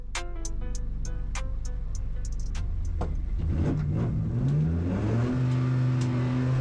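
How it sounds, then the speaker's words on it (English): Racing car engines at the start of a Nankai Tyre CityCar Cup race at Anglesey: a chirping start sequence of short tones, then a pack of engines revving and rising in pitch as they pull away, loud and sustained. "I think revs starting to rise."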